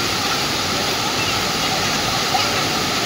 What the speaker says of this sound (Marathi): आणि एवढा पाऊस थंड आहे ना पाणी पावसाचा.